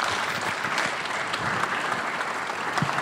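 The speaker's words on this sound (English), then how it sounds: "Let's give Daktari a better round of applause, please." A conference audience claps for a speaker, a dense, even patter of many hands heard at moderate loudness for a few seconds.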